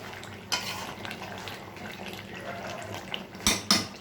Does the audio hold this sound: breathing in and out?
no